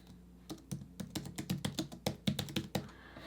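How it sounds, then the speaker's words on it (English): Steady typing on a computer keyboard, a quick run of crisp, close key taps with a few slightly heavier strokes, no voices. "I'm going to type in here Thanksgiving t-shirt"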